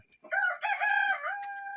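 An Uzun Arap rooster crows once, a loud, clear, drawn-out call close by with a sustained final note.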